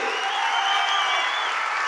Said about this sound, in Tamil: ஒரு அரங்கம் நிறைந்த மாபெரும் கைத்தட்டலுக்கு நடுவே